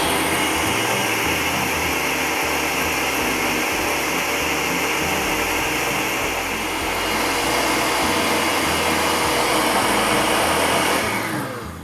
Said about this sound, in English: Grab a lid, blend it up hard, blend it up fast, about 30 seconds maybe.